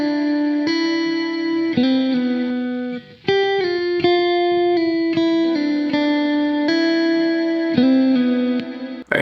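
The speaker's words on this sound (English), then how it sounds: "I have a lot of reverb because it's a very ambient guitar." An ambient electric guitar drenched in heavy Valhalla Supermassive reverb plays sustained, shimmering notes and chords in Ableton Live, each tone blooming into a long wash that fills the gaps, loud and alone with no talking.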